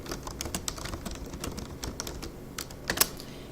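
Rapid typing on a computer keyboard, a quick irregular patter of soft, close key clicks with one slightly louder tap near the end.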